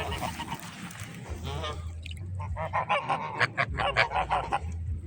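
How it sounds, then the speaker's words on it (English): Geese and swans at a waterside spot honk in a rapid, overlapping series of calls that builds and grows louder, with a low steady rumble underneath. "The geese, the swans were over there."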